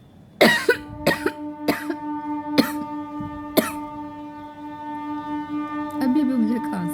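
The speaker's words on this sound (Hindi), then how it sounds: "अभी भी मुझे खांसी आ रही है" A woman coughs five times in sharp, separate bursts spaced about a second apart, close and loud, with a steady hum underneath and a little talk near the end.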